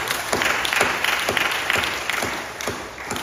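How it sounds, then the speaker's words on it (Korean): A church congregation at a Sunday worship service clapping together in a steady rhythmic beat, moderately loud and close, about seven claps in three seconds. "하나님 영광을 박수합니다"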